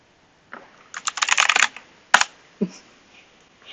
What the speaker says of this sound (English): I intentionally got a loud keyboard, and I stand by it.